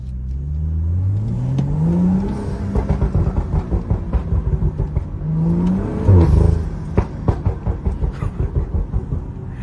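A Stage 2+ tuned BMW 335i engine revs up and down repeatedly, rising in pitch with each push and crackling and popping on overrun as it falls back, loud and close.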